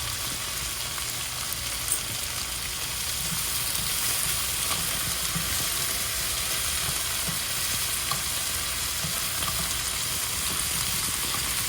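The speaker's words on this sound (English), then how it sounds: "So you stir fry it for about 3 to 4 minutes on high heat." Beef for a chili stir-fry, already cooked and tender, sizzles steadily on high heat with ginger and garlic paste. It is a continuous, loud hiss of frying with no pauses, and no one speaks.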